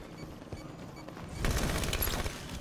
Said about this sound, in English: there was like grenade, grenade, Charizard's grenade, and then I died.